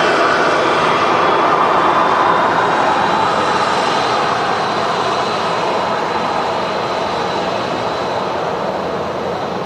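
A Ryanair airliner lands at Manchester Airport with a loud, steady jet roar that holds close and constant throughout, fading slightly toward the end, with no voices.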